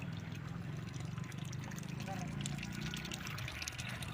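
Water rushes and gurgles steadily in a canal beside a residential layout in V. Kota, with a person talking over the flow.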